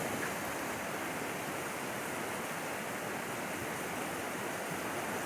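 The East Fork of Hood River rushes under a bridge in a steady, loud broadband roar of flowing water with no voices.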